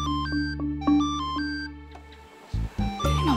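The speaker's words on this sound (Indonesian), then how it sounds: "Ada telepon." A telephone rings with a bright, melodic tone that repeats in a stepped pattern of notes, loud and close, then cuts off into a few low thumps and clicks.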